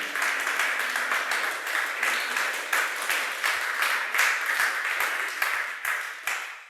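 Loud, vigorous applause from a church congregation, many hands clapping in dense rapid bursts that surge and ease in waves, close and sustained across the whole stretch.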